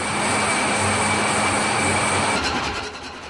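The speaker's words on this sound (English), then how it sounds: "the diesel engine propels most of the tonnage of all of the world's shipping" A large MAN marine diesel engine aboard a ship runs with a loud, steady, broadband drone, continuous and close, easing slightly toward the end.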